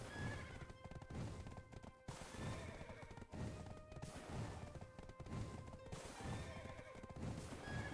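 A horse in the video game Black Desert whinnies and gallops with rapid, continuous hoof clatter. The sound is dense and steady, with repeated neighs and crashing game effects over it.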